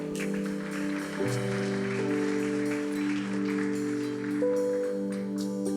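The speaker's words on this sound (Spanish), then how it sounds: "Denle un fuerte aplauso al Señor." Steady applause from a church congregation, continuous and moderately loud, with sustained organ or keyboard chords playing underneath throughout.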